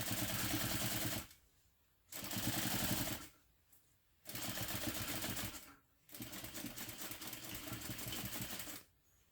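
A sewing machine stitches a fabric diaper bag in four bursts of rapid mechanical whirring, separated by short quiet pauses.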